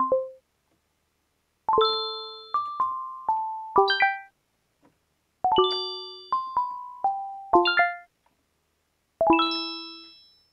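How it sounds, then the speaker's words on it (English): A synth bells preset on a Casio MT-70 sine wave keyboard plays bright, ringing bell tones in short melodic phrases, each note decaying gently, with brief pauses between three clear runs. "Synth bells."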